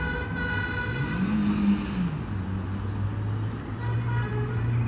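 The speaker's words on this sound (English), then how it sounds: "they've just been driving around town honking in grand excitement" Cars driving around a town, honking in celebration, with long rising and steady horn or siren-like tones sounding over distant traffic noise at moderate volume.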